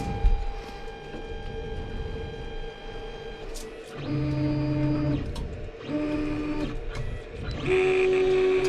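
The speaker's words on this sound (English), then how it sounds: "I hear the fan turning on." A Creality CR-10S 3D printer, upgraded with a BondTech extruder and hotend, whirs with a steady fan hum, while louder stepped whining tones come in short bursts that start, stop and shift pitch.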